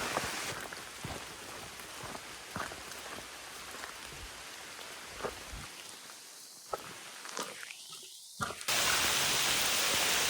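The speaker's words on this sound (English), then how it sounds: "The rain showed up a little later than it was supposed to, but it's here." Steady rain falls on a hiking trail, a dense even hiss with scattered louder drops and a few soft steps, close and continuous throughout with no talking.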